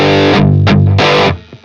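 An electric guitar plays through a TONEX Plug amp and cabinet model with all effects off, giving loud, thick distorted chords with a sustained note that is cut off near the end, no voices.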